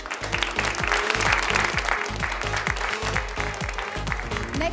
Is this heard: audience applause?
yes